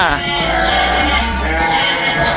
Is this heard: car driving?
no